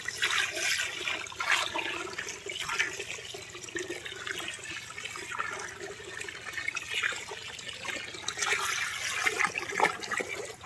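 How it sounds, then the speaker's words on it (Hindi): Water gushes into an open pot of raw rice to wash it, a loud, continuous rushing splash close by that surges and churns steadily for the whole stretch. "अभी हम इसमें पानी डालेंगे इसको साफ करने के लिए।"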